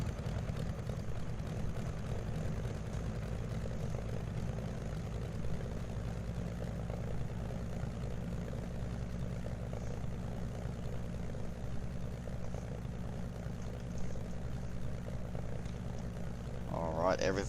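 Fairey Firefly propeller aircraft in a flight simulator taxiing to the runway, a steady low engine drone with propeller hum running throughout, close and constant, with a faint voice talking over it.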